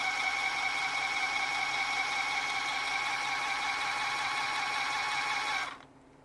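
A GP Toys 926 RC truck's electric motor under throttle whines steadily at a high, even pitch for nearly six seconds, then cuts off abruptly into near silence.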